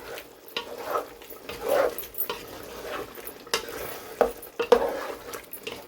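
Chopped ginger stirred into chicken curry in a pot, giving irregular wet scraping and stirring strokes with a few clinks of the spoon against the pot, close and moderately loud.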